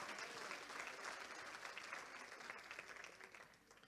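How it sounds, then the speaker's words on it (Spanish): Steady applause from a church congregation during a Spanish-language service with Dutch interpretation, dense clapping filling the space throughout before gradually thinning toward the end. "Dese fuerte el aplauso."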